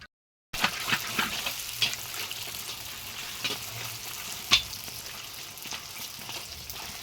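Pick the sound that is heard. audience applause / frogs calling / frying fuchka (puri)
frying fuchka (puri)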